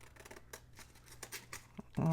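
Scissors snip through heavy material for a junk journal, with soft crisp cuts and handling noise that end in one louder, sharper snip.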